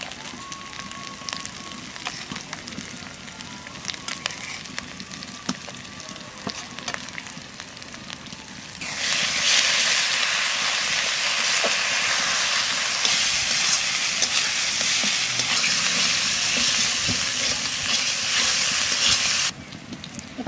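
Ginger garlic paste hitting browned onions in a hot pan, giving a sudden loud, steady sizzle that follows a quieter frying crackle and holds for about ten seconds before cutting out.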